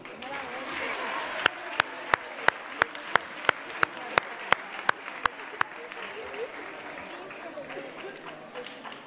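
Audience applause at a local Marbella event after names are read out, a steady wash of many hands clapping throughout, with a run of sharp, evenly spaced clicks standing out near the start.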